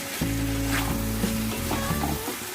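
Mutton curry masala sizzles and fries steadily in hot oil with chilli powder and tomato, making a dense, loud, continuous crackle close by, with a faint low hum beneath and no talk.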